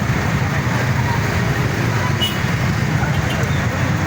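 Road traffic in Sucat near C5 in the morning rush, a steady broadband rumble of idling and crawling vehicles that stays constant and fairly loud throughout, with no clear individual pass-bys.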